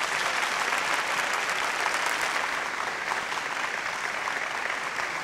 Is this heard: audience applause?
yes